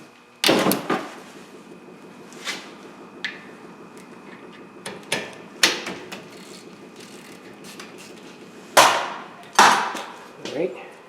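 Sharp metallic clanks and ratchet clicks while brake caliper bolts are loosened on a 2007 Toyota Camry front brake, about eight separate impacts spaced unevenly across quiet garage air.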